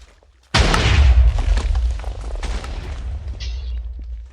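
A Minecraft full-auto TNT cannon loaded with a full stack of TNT per dispenser lets off a loud booming blast that rumbles and crackles, then decays over several seconds.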